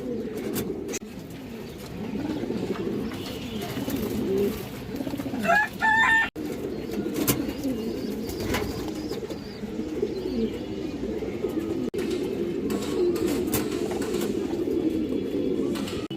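High-quality female pigeons coo nearby, low rolling coos repeating in a steady rhythm with small flutters and clicks in between.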